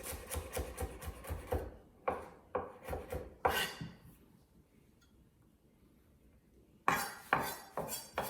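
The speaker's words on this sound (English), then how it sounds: "And that's the onion dicing part." A knife dices an onion on a cutting board in quick rhythmic bursts of chopping taps, pausing briefly before another close, crisp run of cuts.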